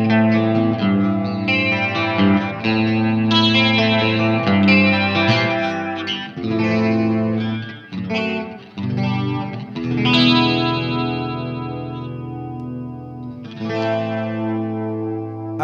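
A vintage electric guitar played through a chorus effect pedal, shimmering chords and single-note lines with a wavering, doubled tone, close and fairly loud with no talking.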